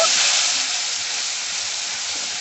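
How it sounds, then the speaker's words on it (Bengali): Ginger and green chili paste sizzles steadily in hot oil, a dense, continuous frying hiss that stays close and fairly loud throughout with no talk, made while preparing dal kachori filling. "তারপরে যে আদা আর কাঁচা লঙ্কাটা বেটে রেখেছিলাম সেটাকে এই তেলের মধ্যে দিয়ে দিলাম"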